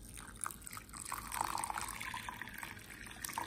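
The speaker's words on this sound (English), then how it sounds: "We're gonna add a cup of boiling water" A cup of boiling water is poured onto Jello powder in a bowl, making a faint, close trickle and splash that runs steadily. No voices are heard.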